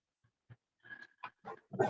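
An excited dog plays on a couch after a trip to the dog park. It gives a series of short snorting, grunting yips and huffs that grow louder toward the end, with no talk.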